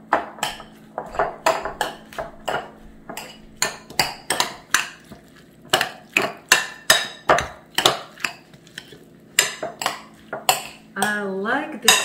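A spoon stirs egg salad with mayonnaise in a bowl, making rhythmic clinks and taps of metal against the bowl, repeated about twice a second, with a short scraping sweep near the end.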